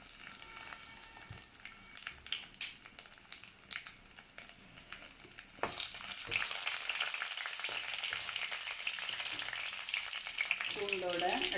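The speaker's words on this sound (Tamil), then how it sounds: "கடுகு பொரிஞ்ச உடனே நம்ம தட்டி வச்சிருக்கிற பூண்டு சேர்த்துக்கலாம்" Crushed garlic frying with mustard seeds in hot oil gives a quiet crackle and popping at first, then a sudden louder, continuous sizzle once added, with occasional stirring clinks, close by.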